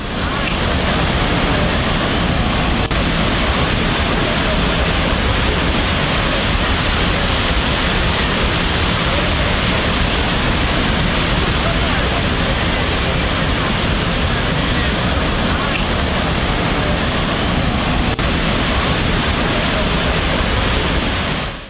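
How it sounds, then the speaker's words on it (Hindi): Flash-flood water rushes through a flooded area of houses in China, heard from above as a dense, unbroken roar that stays loud and steady throughout. "पानी का बहाव देखिए जरा"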